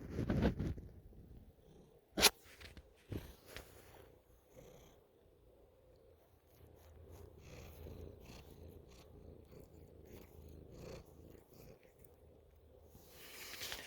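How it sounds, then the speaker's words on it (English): A cat purrs with a microphone held right at its throat, a faint continuous low rumble broken by a few louder bumps and rustles of handling, no speech over it. "You hear her purring? I put the mic right up to her throat so you could."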